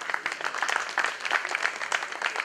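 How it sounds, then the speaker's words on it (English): An audience at a domestic violence fundraiser gala in Enugu State applauds the performers with steady, fairly close clapping that holds at an even level throughout, with no talk over it. "Round of applause for them, please."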